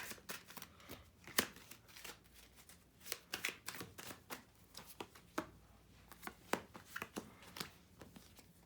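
A deck of tarot cards shuffled close by, with quick soft riffles and sharp snaps of the cards repeating irregularly, quiet and alone.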